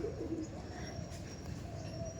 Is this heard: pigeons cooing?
yes